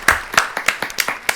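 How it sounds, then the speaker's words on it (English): A handful of people clap at a small comedy presentation, sparse, separate claps in an uneven rhythm, close and fairly loud, without a full crowd roar. "Everyone, give him a round of applause"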